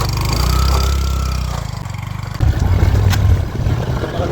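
A motorcycle engine rumbles close and loud on the road near Koilamati Waterfall in Karbi Anglong, its low throb easing off, then surging again partway through.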